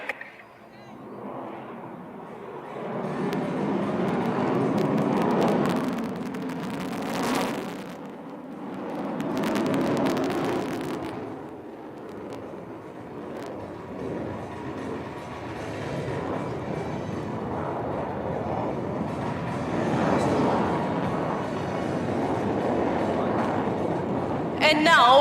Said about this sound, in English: இப்பொழுது டம்பிள் செய்து உங்கள் முன்னால் குட்டிக்காரணம் அடித்து வருவது Su-30 MKI சோலா என்னும் பெயரில்.